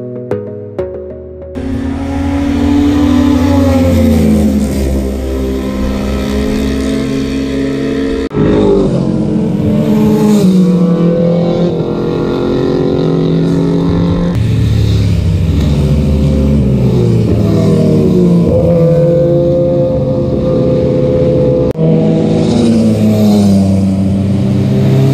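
A vehicle cruising along the Marilaque highway, its engine a steady loud drone with wind rush, shifting pitch as it accelerates and changes gear, continuous and close with no talk.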